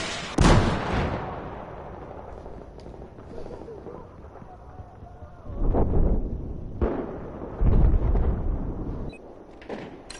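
Grenade explosions and gunfire in the first-person shooter Battlefield 4, several loud booming blasts with a sharp one near the start and heavier bursts later over constant battlefield rumble.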